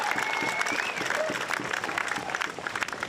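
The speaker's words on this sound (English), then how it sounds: "Let's hear a massive round of applause for Declan Whiten." Crowd at the Bells Beach longboard surfing contest finals applauds a finalist, steady clapping with some cheering across the whole stretch, a little distant and moderately loud.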